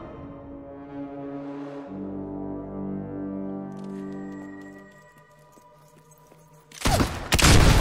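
Blunderbuss gunfire from the video game Fable 2: a droning, tonal musical backdrop gives way near the end to a sudden loud, broadband blast followed by a second heavy burst.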